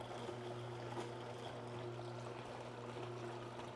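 Watermelon lemonade juice pours steadily into a jar, a continuous close splashing trickle over a low, constant machine hum.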